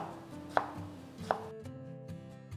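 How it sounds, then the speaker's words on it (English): A knife chops half a tomato finely on a cutting board for an omelet, giving two sharp distinct knocks over a steady low hum and faint kitchen background. "So for the omelet, we're going to do half a tomato, chopped very finely."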